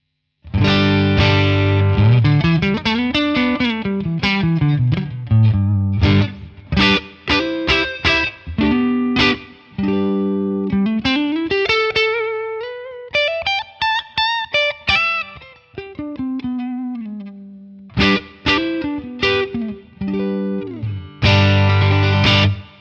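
An electric guitar plays a lively phrase of quick picked notes and slides, with a bright, crisp tone and some effects, loud and alone with no voices.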